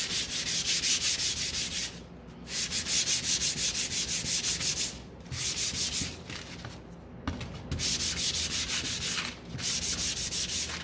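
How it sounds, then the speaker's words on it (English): Light hand sanding of a wooden pallet sign: steady back-and-forth rubbing strokes of sandpaper on wood, close and continuous, with a few brief pauses between passes and no talking. "So this is drier, and I'm just going to give it a light sand now."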